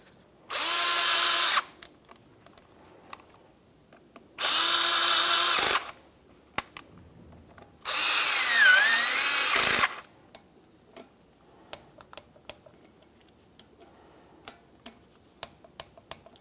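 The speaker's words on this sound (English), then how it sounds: "We'll start in each of our 3 mounting bolts and bottom them out." A power tool drives the locking hub mounting bolts on a 2011-2016 Ford F-350 front wheel in three loud, close whirring bursts, the last one longest, with faint ticks and clicks in the quiet gaps.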